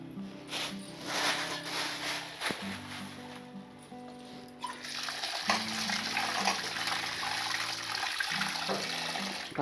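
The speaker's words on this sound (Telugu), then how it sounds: "మటన్ కడిగి పెట్టుకుందాం" Water runs and splashes steadily while 1.5 kg of mutton is washed, a continuous close rush with a tonal melody playing faintly underneath.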